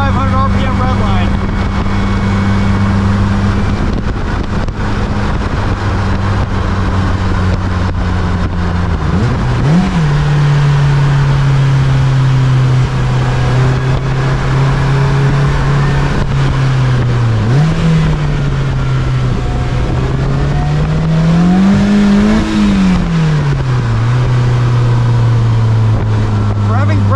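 A car engine revs hard through the gears toward its 8,500 RPM red line, a loud, sustained, rising and falling drone heard from inside the cabin, with someone talking over it.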